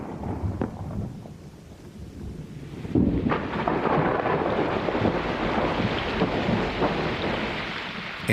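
A tropical thunderstorm with rain opens the rainy season in Sierra Leone, with rain and wind noise building before a sudden loud thunder crack, followed by a sustained heavy roar of downpour and rumbling.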